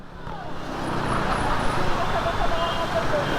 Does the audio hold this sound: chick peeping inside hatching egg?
no